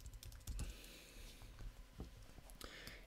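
Quick typing on a computer keyboard during a software configuration walkthrough, a run of light, close clicks and taps.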